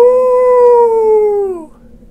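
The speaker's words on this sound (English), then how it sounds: ""Ow!" howls a werewolf." A cartoon werewolf howl sound effect, a single long tonal howl, loud and close, holding steady before sliding down and fading out after a second and a half.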